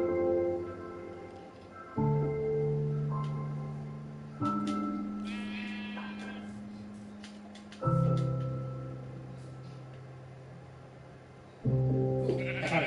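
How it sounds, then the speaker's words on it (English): A sheep bleating in a blocky survival video game, several long wavering bleats spaced a few seconds apart, each starting loud and fading, close and clear with nothing else heard. "Ooh, I found a sheep."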